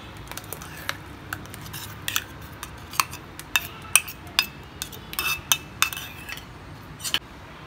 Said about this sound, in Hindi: अच्छे से हम इसे मिक्स करेंगे